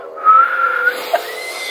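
A breathy, wavering attempt at a whistle, airy and unsteady with only faint tonal flickers, close and fairly loud.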